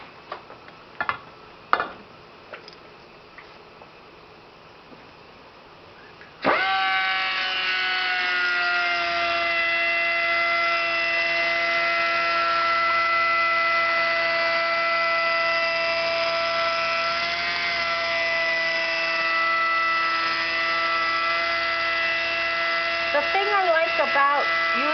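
An angle grinder beveling a metal edge starts abruptly after a few quiet seconds with faint clicks, then whines steadily and loudly at close range without stopping.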